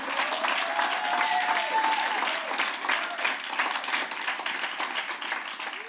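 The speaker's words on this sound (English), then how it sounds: "A round of applause for that announcement." Crowd applause for a venue announcement at an international football event, a continuous dense clapping that holds steady throughout and tapers slightly near the end.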